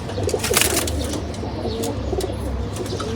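Pigeons in a loft, a mix of males and females, coo in low, soft, repeated murmurs over a steady background, with a few brief chirps and no talking.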